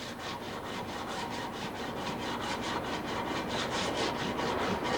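Steady rhythmic rasping of an MG Stromberg carburetor part being sanded back and forth on a flat steel plate, about four strokes a second, close and fairly quiet, with no talking.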